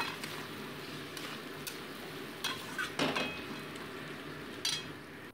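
Chicken pieces are stirred and fried with spices in a pan for chicken curry, making a low, fairly quiet sizzle with a few sharp spatula clinks against the pan.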